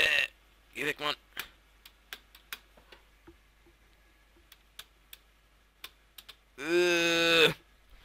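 Scattered clicks and taps from a computer keyboard with a sticky space bar, sparse and fairly close, broken up by short bursts of voice at the start and a louder vocal burst near the end.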